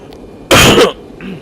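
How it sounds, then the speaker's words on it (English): A single sharp cough from someone recovering from an illness bursts out close by, loud and brief, against quiet surroundings. "Excuse my cough"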